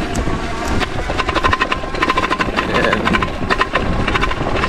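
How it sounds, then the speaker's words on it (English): An ENGWE X20 e-bike front shock clatters over a bumpy, dusty dirt trail, a loud run of rapid rattling knocks over a steady motor and rolling rumble. "that front shock clatter"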